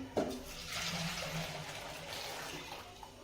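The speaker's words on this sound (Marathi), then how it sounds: "ते पाणी गरम झालेलं आपल्याला काय करायचंय, जी आपण डाळ धुवून घेतली होती त्या डाळीमध्ये ओतून घ्यायचंय" Hot water poured from a pot onto washed lentils in a home kitchen, a steady splashing pour that starts with a short burst and runs continuously for about three seconds.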